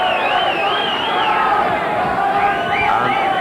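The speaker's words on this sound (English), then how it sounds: "Great round of applause for both fighters." A boxing crowd at a British bantamweight title fight, Ronnie Carroll against Joe Kelly, keeps up a steady, loud roar of cheering and shouting for the fighters, with no clear clapping standing out.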